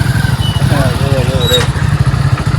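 Motorbike engines rumble steadily close by as riders pull away, with a person talking over the drone.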